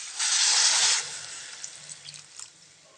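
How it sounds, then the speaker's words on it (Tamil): Water is poured into a pan of brinjal curry cooking with tomato and spices, giving a bright hiss for about a second before it settles to a soft sizzle with a few faint pops. "இதுக்கு கொஞ்சம் தண்ணி ஊற்றிக்கலாங்க."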